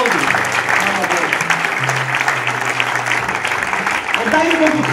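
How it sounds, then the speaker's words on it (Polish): A congregation at an evening worship service applauds, sustained clapping mixed with crowd voices and a steady held musical tone underneath. "Brawa!"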